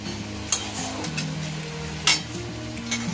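Chicken masala frying in a pan, a low steady sizzle with a few sharp stirring scrapes and knocks against the pan, close and moderately loud, no talk.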